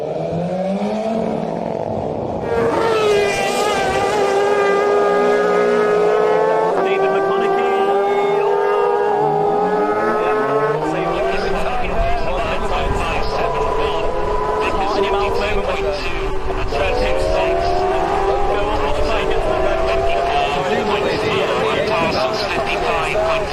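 Racing motorcycle leaving the pits at the Manx Grand Prix Senior Race, engine revving up through rising gear changes, loud and continuous, under steady commentary.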